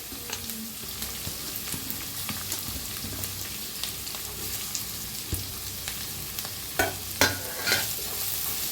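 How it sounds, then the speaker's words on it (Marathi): Grated raw mango roasting in a pan hisses with a continuous sizzle while a spoon stirs it in steady scraping strokes, ending in a few louder clacks against the pan, close up. "आता घेतलेला आहे आंबा किसून घेतलेला बी जरा भाजून घ्यायचा आहे"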